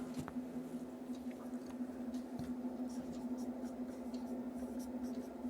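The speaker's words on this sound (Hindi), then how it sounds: "यहाँ पे एक प्रश्न लिखता हूं" Chalk or marker scratching across a board as a question is written in a classroom lesson, a soft continuous scribbling of short strokes beneath a steady low electrical hum.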